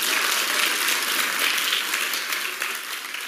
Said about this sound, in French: Je vous demande de l'applaudir d'urgence.